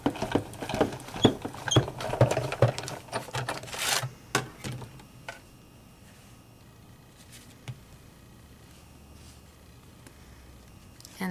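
A Sizzix Big Shot die-cutting machine cranks a Spellbinders M-Bossabilities embossing folder through with a clear plate, making a close, uneven run of rubbing, clicking and scraping that tapers off into quiet with a few faint ticks.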